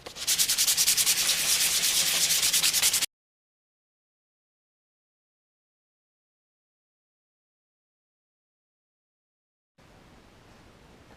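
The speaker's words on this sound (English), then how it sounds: "I'm going to go ahead and file this up" A hand file scraping a guitar tremolo block, a fast, even series of rasping strokes close up for about three seconds, then silence, then a softer rough rubbing near the end.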